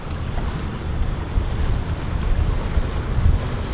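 A sailboat under sail on the Mediterranean, a steady loud rush of wind buffeting the microphone over the wash of waves against the hull, continuous with no voices.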